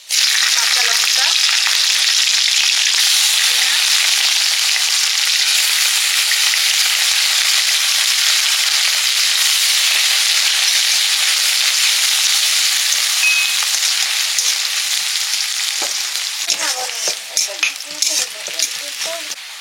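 Green chillies, whole cumin and bay leaves frying in hot oil give a loud, continuous close sizzle that gradually eases, with stirring clatter near the end.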